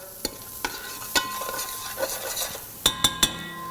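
Garlic, carrots, onions and celery cooking in a pot with a gentle sizzle, broken by scattered clinks and scrapes of a stirring utensil, including a quick cluster of three near the end.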